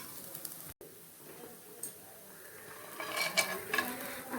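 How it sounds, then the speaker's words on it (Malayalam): Grated coconut being roasted and stirred in a pan: a faint background crackle at first, then quicker scraping stirring strokes grow louder toward the end. "അപ്പോൾ തേങ്ങ വറുക്കാൻ വേണ്ടിയിട്ട് പാനിലിട്ട്"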